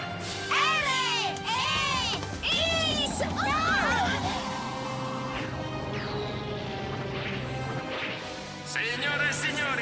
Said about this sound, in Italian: fate un applauso al nostro cerimoniere